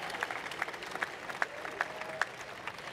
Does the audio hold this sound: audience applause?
yes